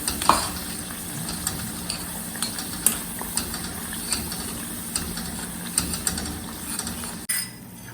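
Kashmiri red chilli paste cooking down in oil, stirred steadily with a utensil: a low frying sizzle under repeated light scraping clicks and taps across the pan, close and fairly quiet, no voices.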